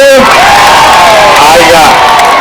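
A large crowd at a political rally in Keroka, Nyamira County, claps and cheers loudly and continuously, with whoops and voices rising above the steady roar.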